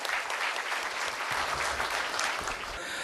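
Applause from a conference audience greeting a lawmaker called to the stage at a 2013 jobs and regional economy conference, a dense, steady burst of clapping lasting the whole moment.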